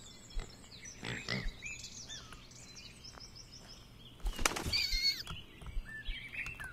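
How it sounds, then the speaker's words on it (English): A pigeon in Bear Simulator lets out a squeaky, rat-like squeal, a short sharp cluster of chirps near the middle amid sparse bird calls and game ambience, with no talking. "Why did this pigeon with a seagull icon make a rat noise?"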